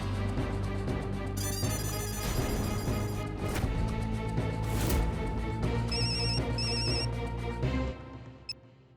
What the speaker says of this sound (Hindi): अब जल्दी से भूतनाथ जी को फोन कीजिए ना और पूछिए कि क्या बात है।